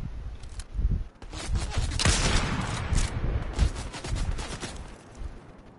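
Dense, sustained gunfire in the video game Fortnite, a chaotic fusillade of rapid shots and bursts that stays loud and close for the whole stretch, with no voices over it.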